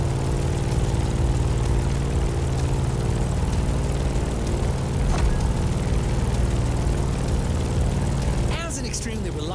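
A Grumman F8F Bearcat propeller fighter in The Crew Motorfest drones with a loud, steady piston engine and propeller roar that briefly shifts near the end, overlaid by someone narrating.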